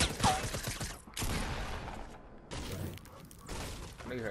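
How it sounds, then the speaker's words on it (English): Gunfire in Fortnite crackles in several bursts of shots with short pauses between them, moderately loud amid game noise, while players talk briefly. "I think you heard that shooting"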